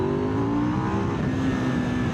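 A 2026 KTM 990 RC R parallel-twin motorcycle engine holds at high revs on the road, a steady loud drone with a rising whine, close and continuous over a couple of seconds.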